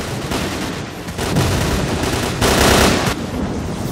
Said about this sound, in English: we have this Gauss Rifle that does not do damage, that we have to use to shoot Strelok's shield